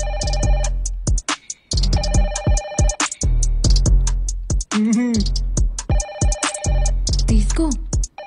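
A telephone rings repeatedly in loud, regular bursts of bright trilling tones, with short gaps between them and voices speaking in the gaps, in a comedy scene from a Telugu film.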